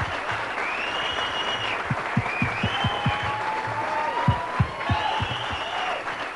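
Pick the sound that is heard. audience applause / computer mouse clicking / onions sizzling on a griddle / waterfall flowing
audience applause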